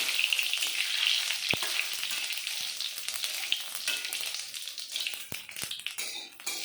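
Cumin seeds tempering in hot oil in a pan for a thin Bengali curry. A continuous bright sizzle and crackle carries throughout, broken by a few sharp taps and pops near the pan, with no talking.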